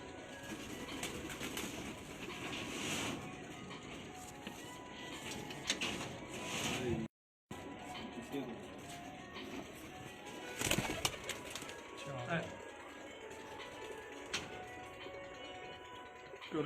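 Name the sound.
Cheena pigeons cooing and flapping while landing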